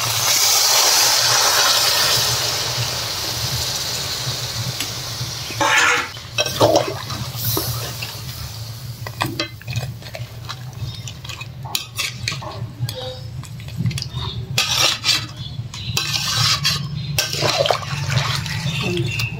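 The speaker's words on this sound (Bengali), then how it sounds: "এবার দিয়ে দেবো নারকেলের দুধ।" Coconut milk pours with a soft hiss into a pan of prawn malaikari curry, followed by stirring with clinks and scrapes of a utensil against the pan.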